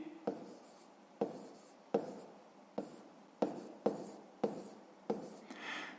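A pen or marker writes the answer to a math exercise with about eight short, crisp strokes, each a quick scratch that fades, heard close and quiet with no talk.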